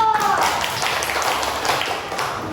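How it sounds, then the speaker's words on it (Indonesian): Schoolchildren in a primary classroom clap for a group of classmates, a busy patter of small hands that fades slightly as it goes, with a voice briefly heard at the start. "Dikasih tepuk tangan ke kelompok 1"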